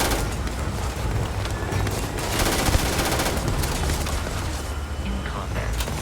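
Rapid gunfire in the video game Starfield crackles in dense continuous bursts during a firefight, loud and close with booming impacts throughout.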